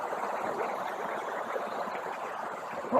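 A small waterfall rushes in a steady, even wash of splashing water heard nearby outdoors, constant and broadband with no talking over it.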